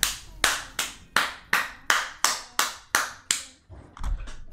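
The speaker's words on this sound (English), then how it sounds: "The applause." During a high-stakes online casino table-game stream, about ten crisp, evenly spaced claps ring out in a slow, deliberate rhythm. They are close and clear, followed by a low rumble of background noise.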